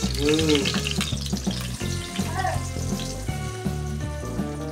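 Mung lentil ladoo mixture roasting in ghee, giving a steady low sizzle that runs the whole time under a tonal musical background, with a faint voice briefly audible.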